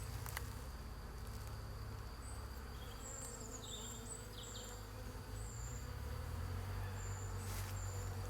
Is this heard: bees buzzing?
yes